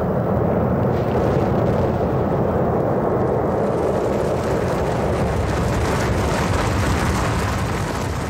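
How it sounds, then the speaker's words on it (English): Russian rocket main engines igniting at launch from Kazakhstan for the Beagle 2 Mars probe, a heavy continuous roar and rumble that stays loud and dense throughout. "the main engines will start. There they go right now. You can hear the rumble and see the flames."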